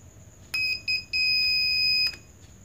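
Universal car parking sensor kit's warning speaker sounds a short electronic beep, another brief one, then a sustained tone of about a second, loud and close in a quiet room.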